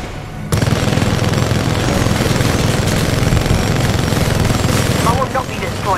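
Sustained rapid gunfire from a weapon in Titanfall 2 rattles loudly and continuously for several seconds, with a brief quieter lead-in and some chirping effects near the end.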